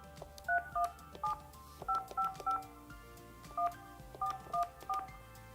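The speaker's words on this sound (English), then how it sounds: "To place a call using the handset, simply dial the number and pick up the handset." Yealink desk phone keypad sending a quick series of dual-tone dialing beeps, about a dozen short clear tones in irregular groups, close and alone with no talk.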